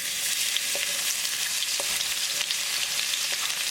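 Olive oil heating with garlic in a kadai, a dense bright hiss of frying that stays steady and close, with a few faint crackles and pops.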